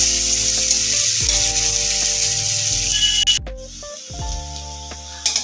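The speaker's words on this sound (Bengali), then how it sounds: "পেঁয়াজটা আমি গ্যাসটা কমিয়েই ভাজবো" Onions frying in oil over low heat beside potatoes in a pan, with a close, steady hiss and sizzle that briefly drops out and returns, backed by soft music.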